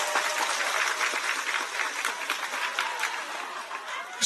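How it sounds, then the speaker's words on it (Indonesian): A crowd at a live Islamic study gathering in Kedungjati, Grobogan, applauds with dense, steady clapping that rolls on throughout, sounding somewhat distant and thin. "Tepuk tangan dulu dong."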